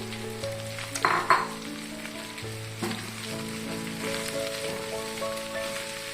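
Sliced onion added to hot oil in a pan after garlic for chilly chicken, giving a soft continuous sizzle and crackle with a few clatters from stirring, heard alone at moderate level.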